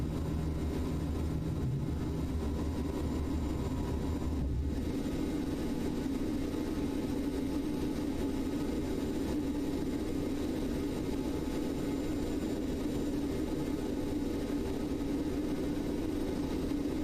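Steady airliner jet engine drone inside a flight simulator game, a broad low rumble with hissing wash that holds evenly throughout, a brief dip in the lower hum about five seconds in, no voices.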